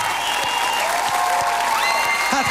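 A studio audience on its feet gives a standing ovation after a singer's ballad finale on a televised talent show final, steady dense clapping and crowd noise filling the room, with sustained music tones underneath.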